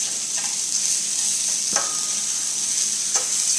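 Spanish rice stirred in a pan over a constant sizzle, with a few light scraping strokes spaced out over several seconds.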